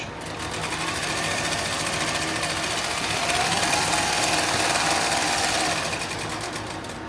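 A sewing machine stitches a tactical plate carrier with a steady, fast mechanical whir that rises slightly in the middle and eases off at the end. There is no talk over it.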